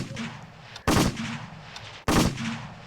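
Gunfire in a Squid Game mode video game: two loud, sharp shots about a second apart, each ringing out briefly over a steady background of game noise.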